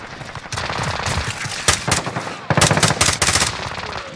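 Rapid automatic weapon fire in a video game's gunship sequence, a dense continuous rattle with louder bursts toward the end, loud and close.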